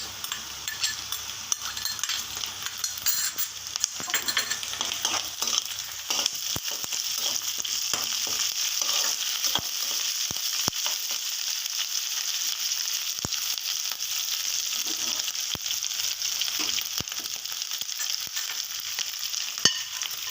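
Food frying in a pan for a home-style Bengali dish of Malabar spinach leaves and dried Bombay duck fish, with a steady, loud sizzle throughout and occasional clinks and scrapes of a utensil stirring against the pan.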